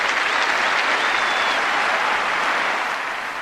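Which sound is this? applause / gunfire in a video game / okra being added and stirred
applause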